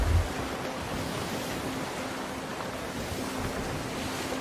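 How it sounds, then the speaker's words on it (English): Ocean waves in the pirate video game Sea of Thieves: a steady, broad wash of surf and wind noise fills the scene, with a faint low hum underneath and no talking. "these waves are gonna fuck us up, I think"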